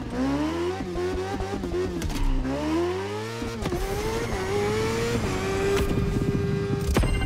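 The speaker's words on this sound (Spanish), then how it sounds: "¿Cómo suena la moto por aquí, eh?" A motorcycle engine in the video game The Crew Motorfest drones and revs up and down through the gears, rising and falling in pitch as it accelerates, loud and close.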